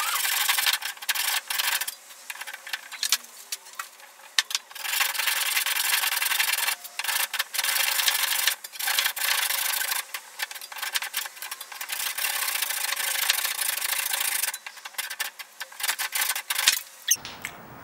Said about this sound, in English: Now I'm going to cut off this little nub thing at the bottom of it with the saw.